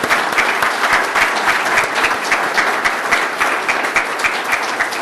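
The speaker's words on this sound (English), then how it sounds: "I want to give everyone a hand of applause" Audience applause at a police department awards ceremony, a full room clapping continuously and evenly, close and loud for the whole stretch.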